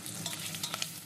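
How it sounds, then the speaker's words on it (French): Bacon lardons frying in oil in a saucepan, a steady close sizzle and crackle with a few brief stirring scrapes, no voices. "On va déjà faire revenir nos lardons dans une casserole avec de l'huile."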